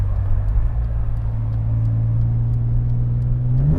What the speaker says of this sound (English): you heard that thing bouncing off the rev limiter?